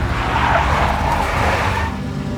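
A big black Mercedes skids in Max Payne, its tires giving a loud, sustained squeal with engine rumble beneath for about two seconds before it fades slightly.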